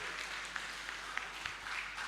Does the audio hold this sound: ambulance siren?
no